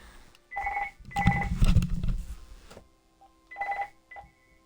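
A mobile phone rings with a repeating electronic tone in clear bursts, pausing briefly between them, close by and mostly alone with a low thump beneath.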